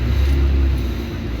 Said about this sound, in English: There's a car that probably got its cat stolen.